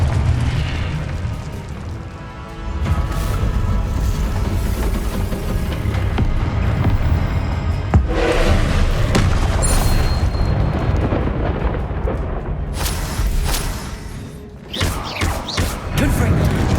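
Confringo blasting spells from Hogwarts Legacy burst in a rapid string of heavy booms and thuds, loud and close, with a voice calling out between the blasts.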